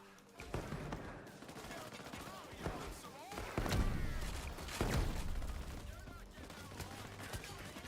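Explosive bursts and rapid gunfire from frag grenades and weapons in the heist shooter Payday 3, loud blasts at intervals over a dense, busy mix with background voices.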